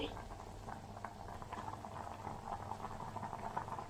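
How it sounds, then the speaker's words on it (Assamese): Potatoes boiling in a pot for an Assamese evening snack, a steady close bubbling and popping with a soft hiss, continuing without break. "কি মজা উতলিছে ওপৰত উঠি গৈছে নে চব গোল্লাৰ দৰে উঠিছে নে একদম"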